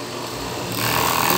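A sewing machine runs steadily, stitching a double reinforcing seam across the bottom of double-layer panties, a continuous close mechanical whir that rises a little in speed partway through.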